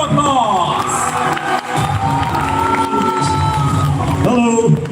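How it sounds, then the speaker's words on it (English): Crowd at an English speaking competition cheering and clapping to welcome a speaker to the stage, a loud continuous roar with whoops and shouted voices mixed in. "Let's give it a big round of applause."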